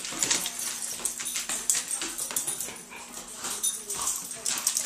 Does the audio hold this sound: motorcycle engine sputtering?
no